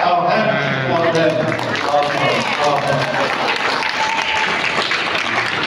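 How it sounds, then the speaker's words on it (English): An audience claps hands together in sustained, even applause at a Catholic gathering. Voices and singing tones carry over the clapping throughout. "So let us clap our hands for them"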